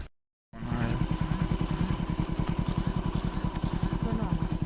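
After a brief silence, a motorcycle engine chugs steadily with a fast, even putter, loud and close as the bike rides along.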